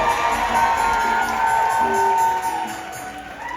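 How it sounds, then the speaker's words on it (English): Wedding guests at a Vivaah Sanskar ceremony applaud and cheer steadily, a dense crowd roar of clapping and voices filling the room for several seconds. "Give the Srimurti family a big round of applause."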